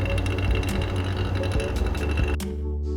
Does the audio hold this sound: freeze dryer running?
yes